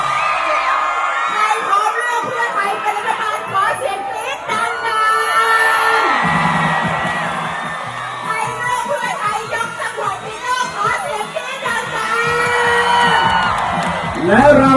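A dense crowd at a political rally in Phitsanulok, Thailand, cheers and screams loudly throughout, with whoops and shrill shrieks rising and falling in waves, mixed with shouting voices.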